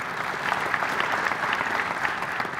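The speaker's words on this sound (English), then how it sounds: "oh, applause for the auditors, right?" Steady, dense applause from a conference audience fills the whole stretch, an even wash of many hands clapping at moderate loudness in a large hall, without any speech.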